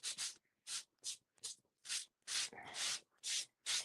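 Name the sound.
lightly sanding two-tone paper with a white core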